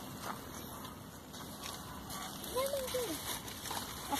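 Water leaking from a punctured garden hose makes a faint, soft trickle and splash outdoors, under quiet background noise, with a brief voice.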